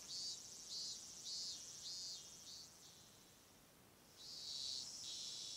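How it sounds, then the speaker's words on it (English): Cicadas drone in the Higurashi When They Cry Hou video game, a shrill high chorus pulsing in several repeated phrases, dipping quiet for a moment before swelling back, with no speech. "Outside, it was still early enough for the cicadas to be crying."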